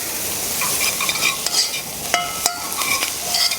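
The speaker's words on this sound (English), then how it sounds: "And then just give that a mix around." A utensil stirs lamb around in a hot pan at an outdoor farm cooking demonstration, with steady sizzling and several sharp scraping clicks against the pan, heard up close with no talking.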